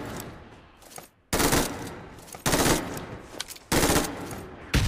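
Shooter video game gunfire: loud, sharp bursts of rapid shots repeat about every second, separated by short quieter gaps.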